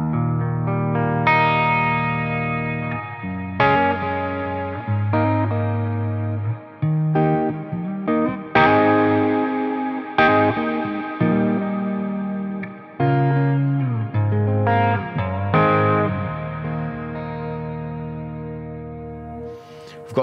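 Clean electric guitar on the neck pickup, run through a New Neighbour Immerse reverb pedal, plays a slow series of ringing chords and single notes with reverb tails, steady and close with no talking.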